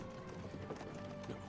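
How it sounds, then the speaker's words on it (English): Horses clip-clop at a slow walking pace in the video game Kingdom Come: Deliverance II. The hooves sound faint and steady, with quiet ambient background and no talk over them. "don't you think maybe we could make the horses go a little faster?"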